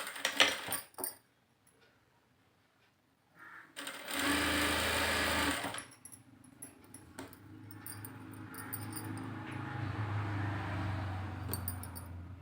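A sewing machine stitches a folded puff sleeve with a short close burst, then a longer steady run, with a few clicks and handling noises between.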